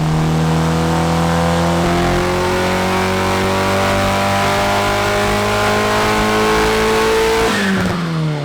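A turbocharged Honda Civic engine revs hard on a dyno, a loud, steady climbing drone that rises in pitch across the run and then drops off sharply at the end.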